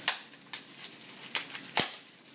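A plastic package of pre-cut onions being opened in a kitchen: a few quick, sharp crinkling snaps and crackles spaced irregularly, close and moderately loud.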